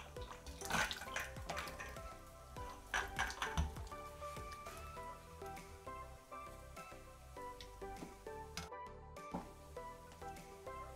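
Cut potato fries for salchipapa are dropped into a bowl of water in a kitchen, giving a series of soft splashes and clattering plops with drips in between, fairly quiet and without voices.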